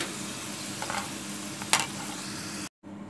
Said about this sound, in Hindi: देखिए अरबी फ्राई हो चुकी है, अब इसको हम निकाल देंगे।